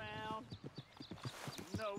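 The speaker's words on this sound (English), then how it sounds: "Well, that's a horse." Rhythmic hoofbeats of a horse in the video game Red Dead Redemption 2 clop along steadily while the horse whinnies at the start and again near the end.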